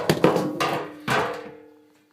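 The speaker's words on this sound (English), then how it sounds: "let's go ahead and take off the panel" Front panel of a Whirlpool Duet washer knocked and pulled loose, a few hollow sheet-metal thumps and bangs with a ringing tone that decays over about a second, close and fairly loud.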